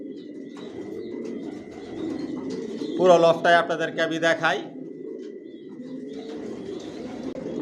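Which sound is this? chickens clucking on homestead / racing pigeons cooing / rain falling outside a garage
racing pigeons cooing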